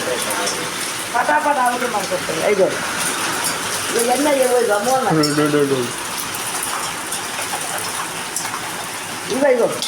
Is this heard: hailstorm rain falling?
yes